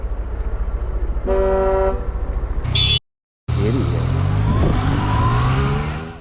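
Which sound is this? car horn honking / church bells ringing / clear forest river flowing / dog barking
car horn honking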